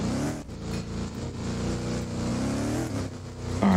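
A car in the video game Liberty County drives along with a continuous revving engine drone that rises and falls in pitch, loud and steady, with no talking.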